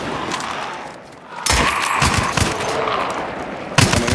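Gunfire in the video game Hunt: Showdown, with a loud burst of shots starting partway through and dense reports continuing over the game's ambient sound, then another sharp shot near the end.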